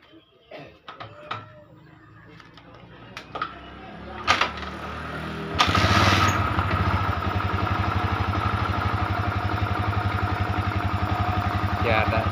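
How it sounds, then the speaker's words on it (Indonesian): A rebuilt Yamaha Vixion motorcycle engine is cranked amid some clicks and handling noises, then catches around the six-second mark and settles into a loud, steady, close idle, with a person talking over the start. "dari di sini motornya hidup sudah normal."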